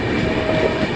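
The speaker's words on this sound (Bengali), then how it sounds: "এই তো দাদা স্পিড নিয়ে নিয়েছে আমাদের ট্রেন" Inside a passenger train picking up speed on the approach to Dum Dum Junction, a loud, steady rolling rumble with clattering of the carriage, brief and continuous.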